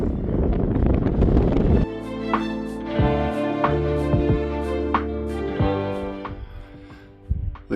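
Strong wind buffets the microphone on an exposed Scottish mountain ridge in the Central Fannichs, a loud, steady roar throughout with gusty surges, no voices.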